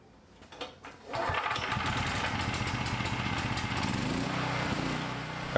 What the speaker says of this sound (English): you can start up the generator just to make sure everything's installed correctly.